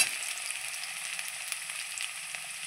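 Potatoes sizzle and crackle steadily in hot oil in a pan while being stirred, a dense, continuous frying hiss close up with no voices.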